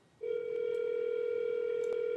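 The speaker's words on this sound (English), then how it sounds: "Is that your phone that's ringing in the background?" A phone rings faintly in the background of an online webinar call, heard as a steady electronic tone that holds continuously after a brief quiet start.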